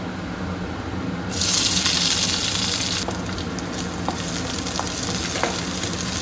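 Green chilies and onion hit hot oil in a home kitchen, bursting into a loud sizzle that settles into steady frying with occasional crackles and pops, close by and without voices.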